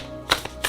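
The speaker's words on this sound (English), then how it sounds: "So let's go ahead and shuffle." Tarot cards shuffled by hand at close range, giving two or three brief papery riffles and slaps in quick succession.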